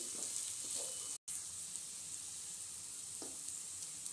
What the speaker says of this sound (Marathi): तर ही आलं लसूण पेस्ट आपण 2 मिनिटांसाठी अगदी व्यवस्थित परतून घेतली।